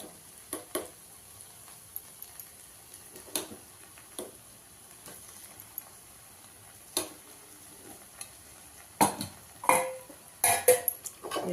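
A spoon stirs egg curry in a pan for egg chapati, soft scraping and clinks spaced out at first, then quicker, louder bursts of metallic scraping near the end over a faint background hiss.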